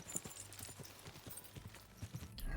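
Horse hooves clip-clop at a steady walking rhythm in the medieval video game Kingdom Come: Deliverance II, moderately close, with faint background game ambience.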